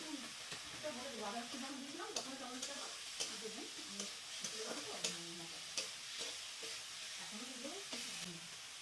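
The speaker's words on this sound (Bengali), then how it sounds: "মশলাটা ভালো করে কষিয়ে নিচ্ছি আমি" Spiced masala with green chilli and chopped tomato fries in a pan for a Bengali pointed gourd and prawn curry, stirred with repeated scraping clicks over a quiet, low sizzle.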